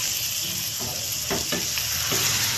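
Fish oil and brinjal frying in a pan with chili powder, a steady close sizzle with a few soft stirring scrapes and clicks throughout.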